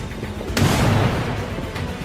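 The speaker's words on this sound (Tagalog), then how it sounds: "Dahil sa lakas ng pagsabog ng granada, tumilapon din siya" A grenade explosion sound effect: a sudden sharp blast followed by a deep rumbling boom that decays over about a second, with a fainter thud afterward.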